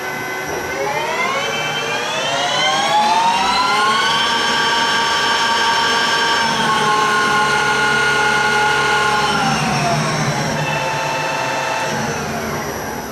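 A Clausing 18x60 lathe runs in its center speed range, a steady loud mechanical whine with motor hum whose pitch climbs as it spins up, holds, then drops as it slows near the end.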